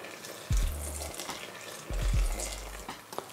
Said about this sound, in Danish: Og så skal der selvfølgelig også lidt vand i